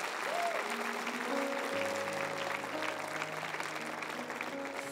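Church congregation applauding together, a steady dense wash of many hands clapping with sustained organ or keyboard tones underneath.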